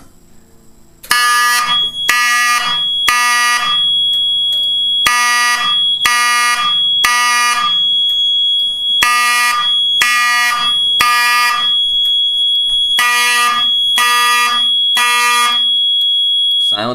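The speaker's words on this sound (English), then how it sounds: "I have a wheel lock 34T horn behind a space-age light plate and a Gentex remote strobe" A Wheelock 34T fire alarm horn, set off from a pull station, blares loud and close in code 3 temporal pattern: groups of three harsh buzzing blasts separated by pauses, repeating four times, with a steady tone underneath.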